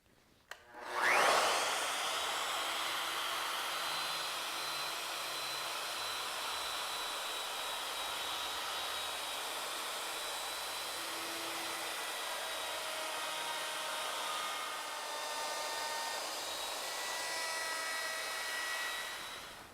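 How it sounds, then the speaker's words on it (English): A router spins up and cuts a bead profile into wood moulding, a loud high-pitched whine that holds steady and close with faint grinding from the bit biting the wood, running without pause. "we'll use various router bits at different depths and at different positions to create the profile"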